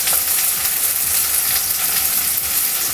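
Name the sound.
onions frying in pan with ginger garlic paste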